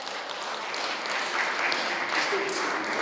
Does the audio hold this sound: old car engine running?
no